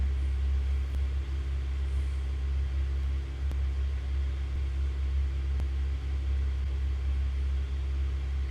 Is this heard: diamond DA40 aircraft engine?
yes